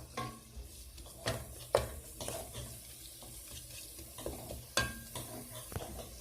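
Onions frying in a pan, a steady sizzle broken by repeated stirring scrapes and clinks of a utensil against the pan, close and moderately loud with no talking.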